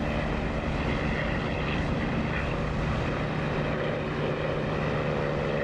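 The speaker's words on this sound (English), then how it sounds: "Oh, just listen to that lovely engine sound." The A-20 bomber's engines drone in the DCS flight simulator game, a steady, loud propeller roar that holds constant throughout without pause or speech.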